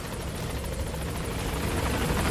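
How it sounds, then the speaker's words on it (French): A helicopter in Metal Gear Solid 5: The Phantom Pain arrives with a steady, loud rotor roar and a continuous whine that holds close and unbroken throughout. "Et j'attends mon hélico."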